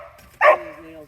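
A dog gives a single loud, close bark outdoors at a sawmill site, standing out sharply against a quiet background with faint talk around it.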